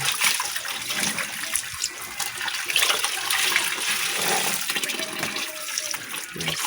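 Laundry being rinsed in water, with a continuous splashing and sloshing wash that swells and fades, close and fairly loud, with no talking over it.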